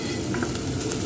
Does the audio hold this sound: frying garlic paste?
yes